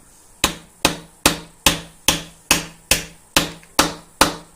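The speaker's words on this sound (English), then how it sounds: "I use a hammer when I'm doing it." A hammer taps a glued dice tower piece to seat it, ten evenly spaced sharp knocks at a steady rhythm, close and clear with no talking.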